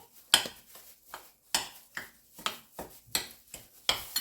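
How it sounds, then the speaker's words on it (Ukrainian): A spoon clinks and scrapes against a bowl while stirring dough for cheese buns, a steady, repeated rhythm of sharp taps at regular intervals with quiet gaps between. "І все гарно так перемішаю ложкою"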